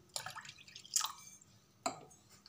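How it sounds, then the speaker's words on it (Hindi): Water poured and dripping onto soured cream being churned into butter with a spoon for ghee, a few short wet splashes and drips close by. "अब इसमें हम और पानी डाल देंगे।"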